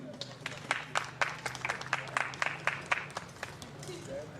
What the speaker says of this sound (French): Applaudissez bien pour vous